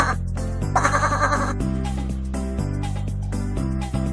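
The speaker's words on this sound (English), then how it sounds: "Sheep, sheep." Sheep bleating over a bouncy children's tune about farm animals, several wavering, strained calls in quick succession, loud and close over the steady music.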